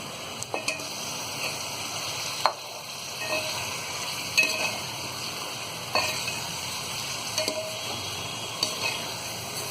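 Chicken pieces fry in ginger garlic paste in a pan for biryani, giving a steady soft sizzle broken by occasional clacks of a stirring spoon, close and fairly quiet, with no talking.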